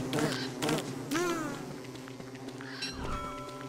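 Game bee buzzing on a community survival server, wavering insect drone in short swelling bursts and a warbling sweep, over a continuous musical background with no talk.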